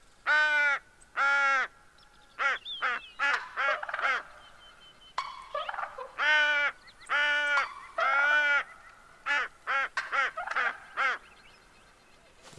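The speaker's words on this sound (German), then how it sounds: "Truthahn-Krähen-Lockpfeife." A crow locator call from the hunting game theHunter: Call of the Wild gives a series of loud, harsh caws, some long and drawn out, others in quick clipped runs, close and clear against a quiet background.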